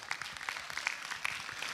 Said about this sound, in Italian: gli farei un altro applauso